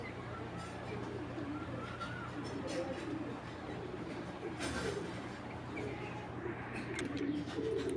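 Pigeons of a racer-type maxi pair coo softly in a loft, their low murmuring calls running steadily across a constant background hum with no talk.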